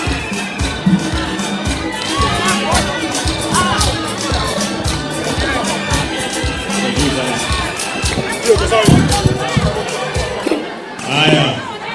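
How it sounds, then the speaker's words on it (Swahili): A crowd at a political church gathering cheers and claps for the Senate majority leader, a dense, loud hubbub of applause and shouting voices mixed with chatter throughout. "Wapi makofi ya Cheruiyot tafadhali?"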